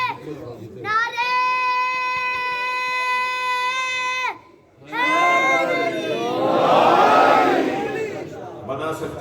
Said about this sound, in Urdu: اونچا بول کے، پنجہ کھول کے، نعرے